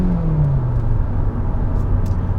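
A 2021 Hyundai Elantra Limited with a naturally aspirated engine accelerates hard in normal mode, giving a brief, loud rumbling engine note whose pitch drops early on as it shifts, then settles into a steady road drone.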